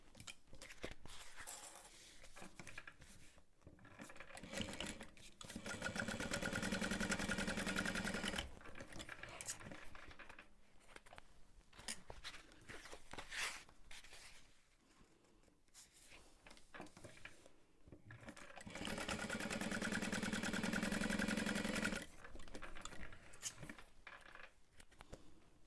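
Sewing machine stitching tote bag upper panels, running in long steady bursts separated by quieter pauses with faint handling sounds.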